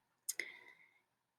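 A single computer mouse click, sharp and close, followed by a brief faint electronic ringing tail in a quiet room.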